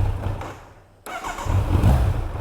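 A Kawasaki Z900 motorcycle cold-starts after a brief quiet moment, catching with a sudden burst and settling into a loud, close, throaty idle.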